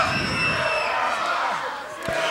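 A wrestling arena crowd jeers and roars in a dense, steady wall of voices, with a single sharp thud, like a body slamming the ring, cutting through near the end.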